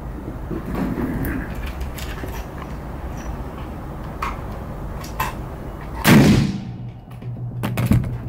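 A Carl Gustav 1896 rifle in 6.5x55 fires one sharp, loud shot about two-thirds of the way in, with a short decaying echo after it, over steady outdoor background noise.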